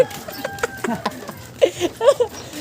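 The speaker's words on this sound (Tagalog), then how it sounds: "Manok." A chicken clucks close by in a series of short, irregular calls that grow louder toward the end, with faint background chatter and soft patter around it.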